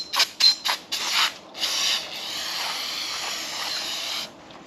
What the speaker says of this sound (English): I'm gonna clean up some of these parts with a little brake clean.